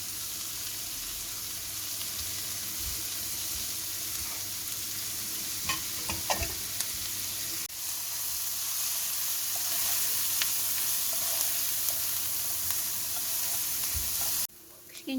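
Chopped onion and grated carrot fry together in a pan, giving a steady sizzle for about fifteen seconds with occasional stirring clinks and scrapes near the middle. No one speaks.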